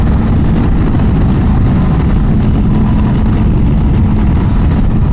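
A Ducati Multistrada 950S motorcycle engine while riding, a loud steady low rumble close up, mixed with heavy wind buffeting and no voices.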